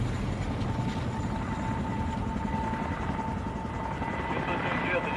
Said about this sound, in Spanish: llegó una unidad especial con helicópteros militares que esparcieron arena y plomo